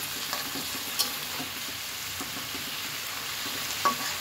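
Ginger, onion and garlic frying in mustard oil for a fish curry, a steady close sizzle with soft crackles and occasional spoon scrapes as they are stirred in the pan.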